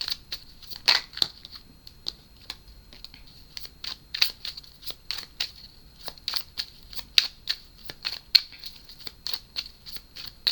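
Tarot cards being shuffled by hand, heard close up as a run of crisp, irregular snaps and papery riffles spread across the whole stretch, with no talking.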